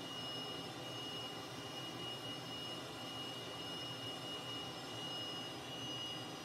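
A Cessna T-37B model aircraft in flight gives a steady, unbroken jet-engine whine with a constant high tone and broad roar, heard at a distance and at a low level, with no talk.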